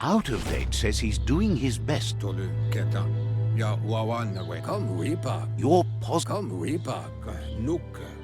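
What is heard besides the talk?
No everyday noises stand out.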